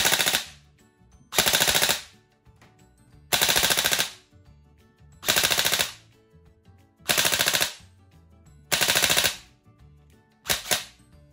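An MK18 MOD1 airsoft AEG with electric blowback fires on full auto in six loud, rapid bursts of about a second each, separated by short pauses, with a brief final burst at the end. No talk.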